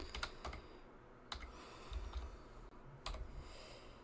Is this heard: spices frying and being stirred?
no